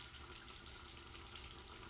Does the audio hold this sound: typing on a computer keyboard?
no